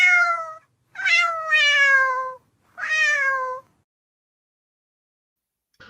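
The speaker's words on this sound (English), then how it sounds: "I love that cat." A cat meows loudly and clearly three times, drawn-out harmonic calls with the middle one longest, separated by silent gaps.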